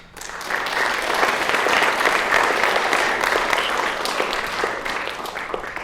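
Sustained audience applause welcomes the panelists at the Lake Forest High School civics panel, a steady, full room of clapping that swells quickly and holds at even loudness for several seconds.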